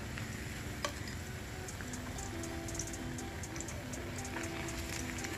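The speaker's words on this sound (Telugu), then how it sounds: "ఇలాగ 2-3 సార్లు మార్చుకుంటూ ఇలాగ గోల్డ్ కలర్లోకి వచ్చిన దాకా ఫ్రై చేసుకోవాలి ఆయిల్లో" Bread slices for bread halwa frying in hot oil in a pan, giving a steady, soft sizzle with faint crackles throughout, heard close and alone.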